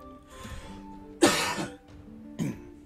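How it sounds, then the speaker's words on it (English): A person fights off a coughing fit with three close, harsh coughs, the middle one loudest, with some throat clearing. "Trying really hard not to have a coughing fit here"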